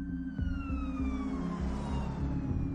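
An ambulance siren wails past, its tones gliding steadily downward as it moves away, over a rhythmic low engine throb with no talking.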